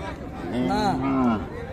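A single cow lets out a drawn-out moo at a cattle market in Raniganj, Dinajpur, over a busy background murmur of people chattering nearby.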